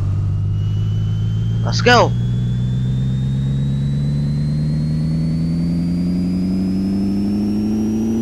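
Ford Escort engine in Pixel Car Racer revving on a dyno, a steady synthetic drone climbing gradually in pitch across the run while a voice shouts briefly near the start.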